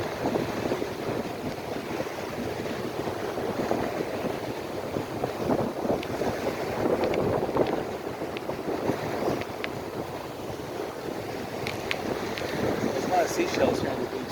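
Steady broadband wind roar buffets the microphone on a Florida beach at high tide, with surf washing underneath, loud and continuous throughout while riding a bicycle along the sand.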